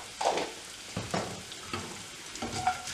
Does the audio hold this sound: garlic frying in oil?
yes